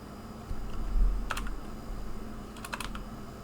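Typing on a computer keyboard while entering numbers, a few scattered clicks and key taps, with one short cluster near the start and another toward the end, close by and fairly quiet over a low background hum; nobody speaks.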